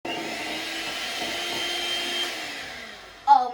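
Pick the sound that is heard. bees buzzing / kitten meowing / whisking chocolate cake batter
whisking chocolate cake batter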